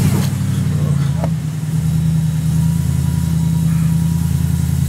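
A Demon-powered Jeep Gladiator Rubicon engine runs in a steady, loud low rumble throughout, with a brief dip near the middle and people talking faintly over it.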